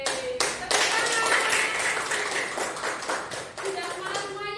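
A classroom of children claps hands together in a fast, patterned rhythm, many hands close by and loud, with the teacher's voice briefly heard before it.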